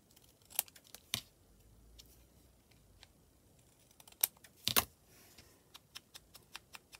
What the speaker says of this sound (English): Maybe I'm going to cut it a bit smaller.